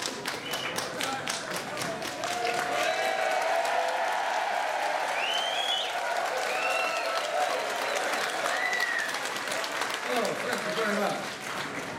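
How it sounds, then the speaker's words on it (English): Applause from a concert audience at a memorial show, a steady wash of clapping that runs the whole length, with scattered cheers and whistles rising over it. "such a miserable round of applause,"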